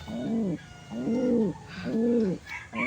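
Pigeons in a loft give three slow, close, rounded coos in a row, each rising and falling, with a soft rustle and faint background activity around them.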